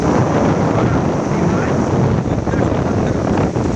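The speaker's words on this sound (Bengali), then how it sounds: "সেই সমুদ্রের তটে আমরা এখন দাঁড়িয়ে আছি বিশাল বিশাল ঢেউ আসছে" Large waves break on a seashore during rough full-moon seas, heard as a loud continuous roaring wash heavily buffeted by wind noise on the microphone, with boats on the water nearby.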